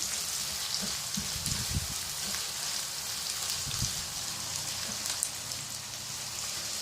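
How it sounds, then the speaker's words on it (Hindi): Ginger garlic paste frying with onion in a pan for fish curry, a steady bright sizzle with soft stirring bumps underneath, close and continuous. "हमारा जिंजर गार्लिक का पेस्ट भी फ्राई हो गया"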